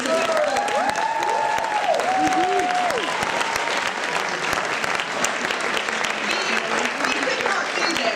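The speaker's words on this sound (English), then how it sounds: "Please, a huge round of applause for Regent High School for putting this event forward." Sustained loud applause from an audience at a school speaking competition final, honouring the host school, steady and continuous throughout with a voice speaking over the clapping at the start.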